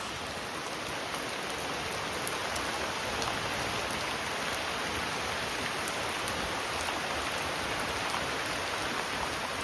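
Steady, dense monsoon rainfall in Konkan pours down with a constant hiss, heavy and unbroken throughout, with no voices.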